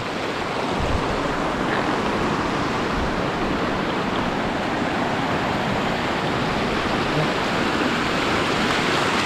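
A big river in spate after a typhoon, its water rushing steadily in a dense, loud, unbroken roar with no voices over it.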